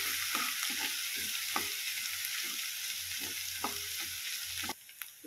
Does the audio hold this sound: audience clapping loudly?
no